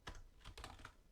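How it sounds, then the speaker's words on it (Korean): Close, quiet clicks of a computer keyboard during data entry in an Excel spreadsheet, a few quick keystrokes in an uneven rhythm. "이렇게 하고 엔터 치면 이렇게 들어갑니다"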